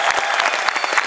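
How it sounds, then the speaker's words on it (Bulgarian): A fight-night gala crowd at a K-1 and low-kick tournament claps for two fighters in the ring, a dense, loud, steady wash of applause filling the whole brief moment. "нека да чуят аплодисментите ви за двата представителни."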